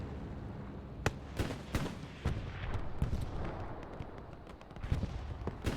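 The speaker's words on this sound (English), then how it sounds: "this artillery is basically firing the entire time" Artillery fires repeatedly in a World War II shooter match on the Utah map, a string of sharp booming blasts at uneven intervals, some near and loud, others more distant, over a continuous rumbling battle din.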